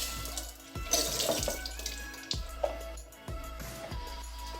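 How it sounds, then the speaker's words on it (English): Fresh olives get rinsed under a running tap in a home kitchen, water gushing and splashing close by in several bursts with brief pauses between them as the flow is interrupted. "So once you take your olives, piece of fresh olives, you wash or you rinse them."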